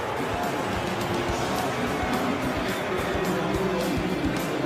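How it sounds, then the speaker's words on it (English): Crowd murmuring at an NFL football game, Minnesota Vikings at Washington Redskins, a low, broad stadium rumble of many voices that stays steady and distant beneath a commentator speaking. "Brought Banks down, bringing murmurs from the crowd."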